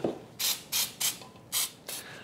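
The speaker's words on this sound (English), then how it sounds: "I need to grease my bundt pan with baking spray" Five short hissing bursts of baking spray onto a bundt pan, evenly spaced and close, each lasting about a quarter second, in a quiet room.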